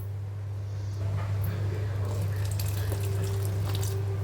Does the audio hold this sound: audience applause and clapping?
no